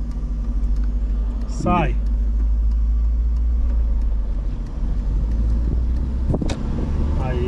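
Volkswagen Parati car during a driving lesson, with a steady low engine and road rumble running throughout, an instructor's voice speaking over it.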